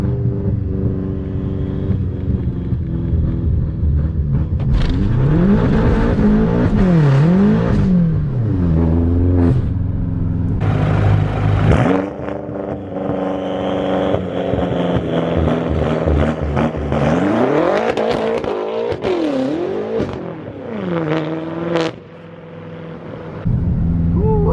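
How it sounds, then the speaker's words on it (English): A BMW F10 M5 launches hard under launch control from about 2000 rpm, its engine roaring and rising through gear changes with turbo spool, loud and close, continuous for the whole run. "I don't know if you guys can hear that turbo spool, but this thing sounds so sick"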